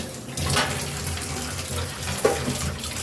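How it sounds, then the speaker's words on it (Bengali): Steady stream of water running from a kitchen tap during dishwashing, a continuous close splashing rush with a small clunk near the end, no talk. "আমি কলটা ট্যাপটা বন্ধ করে দিলাম"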